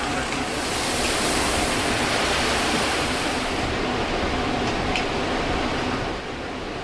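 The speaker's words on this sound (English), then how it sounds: "The water flows into the buckets or spades of the water wheel" Water pours into the buckets of a mill's water wheel, a steady, broad rushing wash that holds constant and then eases slightly near the end.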